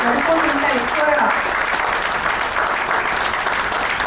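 An audience claps continuously at a Lions Club installation ceremony, a dense, even round of applause, while a voice speaks over it at first.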